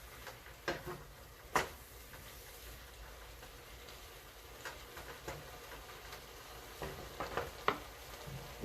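Fresh bell pepper stirred in a pan while frying for pansit: faint steady sizzle with a few sharp clicks and scrapes from the utensil, quiet throughout.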